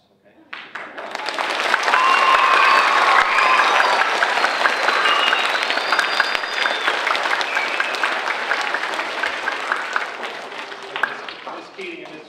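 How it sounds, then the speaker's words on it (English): An audience at a school award presentation in Scranton breaks into loud, sustained clapping and cheering that swells quickly, holds for several seconds, then gradually thins out. "you have to clap real loud for them"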